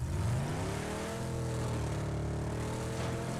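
Car engine in PUBG on PS4 runs steady and loud, a continuous mid-pitched drone with rising harmonics as the vehicle accelerates, filling the whole stretch without pause.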